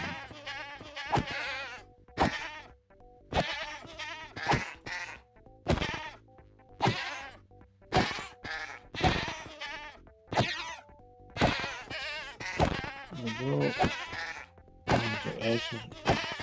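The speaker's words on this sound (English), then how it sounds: "This goat is taking so long to kill." Goats bleat in Minecraft, with short nasal cries coming in quick, irregular bursts and sharp pauses between them across the whole stretch, clear and close, with no talking.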